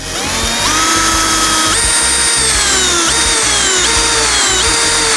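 A power drill drives a screw into roughly 6 mm thick metal, whining loudly and continuously at close range. Its pitch rises and falls in repeated steps as the load changes.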